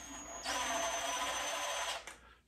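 A power drill runs steadily for about one and a half seconds, driving screws or bolts into a Simagic Alpha Mini sim-racing wheel base during a quick-release swap, a close, loud whir that stops abruptly.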